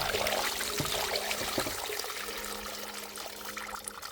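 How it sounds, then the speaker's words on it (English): Water tipped into the hopper of a portable gold high banker beside a river, a steady close splashing trickle and pour that runs on without pause. "I'll tip the water into the hopper."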